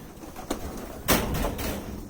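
Racing pigeons in a loft, with soft cooing and a few sharp flutters or knocks over steady background noise.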